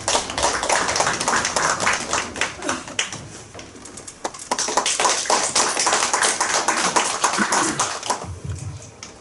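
Audience applause at a Democratic Party members' meeting, a dense patter of clapping hands that dips briefly in the middle, swells again and fades near the end.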